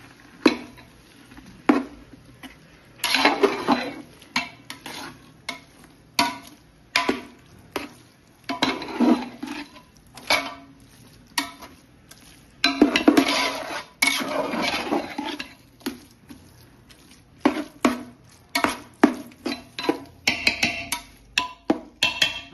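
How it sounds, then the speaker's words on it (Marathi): A spoon scrapes and stirs grated potato in a pan for pav bhaji, making a series of rhythmic scraping and clattering strokes, close and fairly loud, with no talking. "आपण किसलेला बटाटा टाकतो आणि चांगलं मिक्स करून घ्यायचं"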